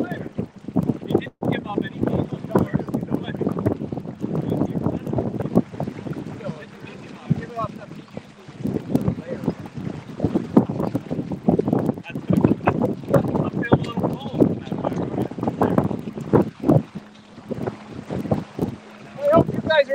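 A sailboat runs under sail in a good breeze. Gusty wind roars and buffets the microphone almost constantly, over a low rush of water, while people talk on board.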